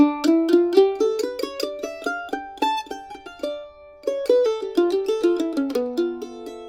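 A quick plucked mandolin run in D melodic minor, bright tremolo-free notes climbing and falling, played solo and close.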